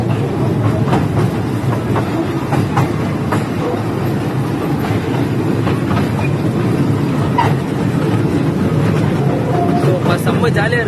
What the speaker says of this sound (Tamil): ட்ரெயினில் போகிறோம்.